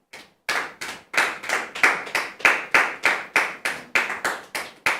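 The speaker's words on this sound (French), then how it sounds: "Merci de la recevoir sous vos applaudissements." A TV studio audience welcoming a guest claps in a steady, regular rhythm of loud, close claps, roughly three per second, with no voices over them.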